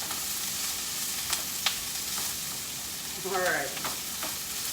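Onions frying in a pan on a stove, a steady soft sizzle running throughout with a few faint clicks and stirring scrapes, and a brief spoken word over it.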